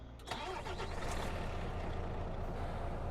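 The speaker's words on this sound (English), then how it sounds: "So we'll start up the truck." A 2018 Freightliner Cascadia truck starts up in a video game: a brief cranking burst gives way to a steady low diesel idle rumble, close and even.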